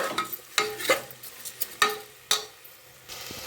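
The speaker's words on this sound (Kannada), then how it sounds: "ಎರಡು ಮೀಡಿಯಮ್ ಸೈಜ್ ಟೊಮೆಟೊ ಮತ್ತು ಒಂದು ಒಂದು ಕಪ್ ಹೆಸರು ಬೇಳೆ ಇಷ್ಟನ್ನು ಸೇರಿಸಿ ಚೆನ್ನಾಗಿ ರೋಸ್ಟ್ ಮಾಡಿ" Two medium tomatoes and a cup of moong dal are stirred and roasted in a pan, a soft sizzle under repeated sharp scrapes and clacks of a spoon against the metal, close and unhurried, with no talk.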